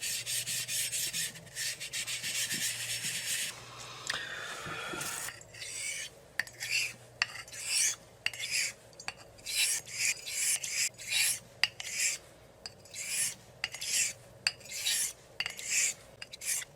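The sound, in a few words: eraser rubbing on convex Arkansas honing stone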